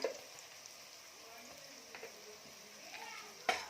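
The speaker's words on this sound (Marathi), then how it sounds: "इथे मी चार चमचे मसाला टाकलेला आहे तेलामध्ये छान परतून घ्यायचा आहे" Kolhapuri onion-garlic masala paste frying in oil with soft tomato, a continuous gentle sizzle and crackle, close by, with a few light stirring scrapes and a sharp clink near the end.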